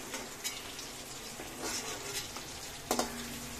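Eggs frying in a pan, a soft continuous sizzle with a few brief clatters of a utensil against the pan, heard alone at low volume.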